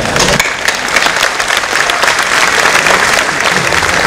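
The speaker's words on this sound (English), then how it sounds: "Can we have a round of applause for that as well?" Sustained applause from an audience at a student felicitation ceremony at a tutoring institute, steady clapping that fills the room without pause for about four seconds.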